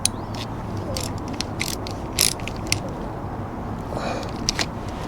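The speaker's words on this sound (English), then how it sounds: "That goes back on there, and just tighten up the clamp" A clamp nut on the oil filter of a Mercury 60 FourStroke outboard is tightened with a ratcheting tool, giving a series of close, sharp clicks and metallic ticks over a steady low background rumble.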